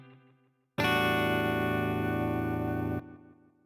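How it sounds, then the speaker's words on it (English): A synth chord pushed through a digital distortion effect, a sustained bright, gritty tone held for about two seconds, loud and upfront, then cut off abruptly and followed by a quieter trailing note. "now I'm going to use this digital distortion here, and that's going to give a nice little grit to the top end"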